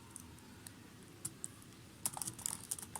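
Computer keyboard keys tap lightly at first, then pick up into a quicker, denser run of clicks as Python code is typed, close and fairly quiet over a soft background hiss, with no one talking.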